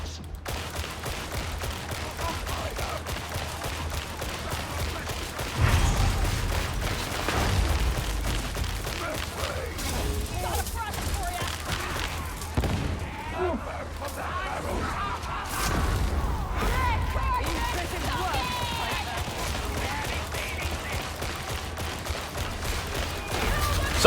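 Lasgun fire in Warhammer 40,000: Darktide crackles in repeated bursts amid booms and combat noise, continuing through the whole stretch with dense, layered shooting.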